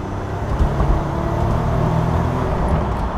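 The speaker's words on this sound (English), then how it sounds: "I've only just tickled the turbos there because I don't want to bother the speed limits" A 1992 Jaguar XJ220 with 550 horsepower pulls away with a light touch of turbo boost, a steady, close engine roar rising gently over a few seconds.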